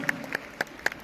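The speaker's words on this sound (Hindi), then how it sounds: "जोरदार तालियां इनके लिए" At a network marketing motivational event, four crisp, evenly spaced claps sound close and fairly loud over a faint room background, with no speech.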